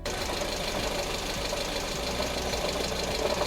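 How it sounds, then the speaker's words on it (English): A running car engine with a steady, fast tapping from the cylinder head and camshaft area, layered over a low idle hum, continuous and close. "Tapping noise from the engine top, cylinder head and camshaft area."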